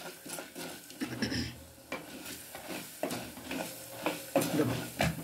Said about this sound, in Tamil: வறுத்துக்கிட்டு பொன் வறுவலாக வரும்போது